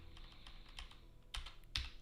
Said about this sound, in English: keep hitting the wrong dang keys